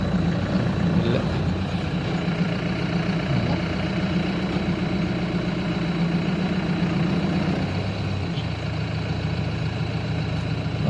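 A vehicle idles on a forest road near Topslip, Pollachi, giving a steady, continuous low engine rumble that holds without breaks for the whole stretch.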